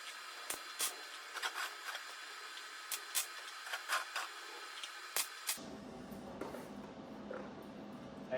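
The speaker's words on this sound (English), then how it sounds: "So I keep dragging my hand across this thing because there's not that lip." A hand drags and rubs across the shell of an ESAB Sentinel A-50 welding helmet, giving a series of short, close scraping brushes in quick bursts, then a steadier soft rustle.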